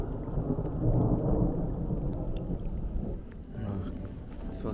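Deep thunder rumbles and rolls continuously through steady rain, swelling loudest early on and easing toward the end.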